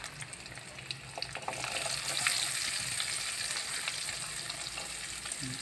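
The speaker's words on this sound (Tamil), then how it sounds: "வெங்காயமும் பூண்டும் நல்லா வதங்கட்டும்" Chopped onions and garlic fry in a pan for a Tamil bitter gourd kuzhambu, giving a soft, continuous sizzle with a few stirring clinks and no talking.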